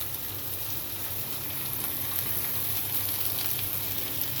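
Oil sizzles in a frying pan before small fish are added, a dense, even hiss that holds steady and close throughout without any talk.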